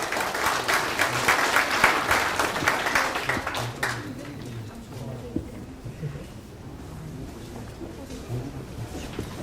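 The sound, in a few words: audience applause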